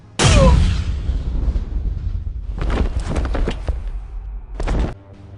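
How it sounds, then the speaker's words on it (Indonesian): A loud gunshot from the Inuyashiki anime opens with a sharp boom that rolls on into a long echo, then two more heavy blasts land later, each one punchy and close with no talk. "Kemudian Hiro langsung menembak Inuyashiki hingga tersungkur"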